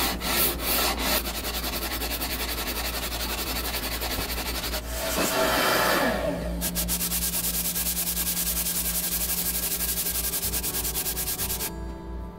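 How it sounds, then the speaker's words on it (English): Abrasive paper rubs steadily back and forth across a hard ebony fretboard during fret leveling on a Les Paul refret, a continuous close scratchy sanding with one brief louder stroke midway and no talking. "that just helps break up the 80 grit scratches from this and speeds up the whole leveling process on this hard ebony fretboard"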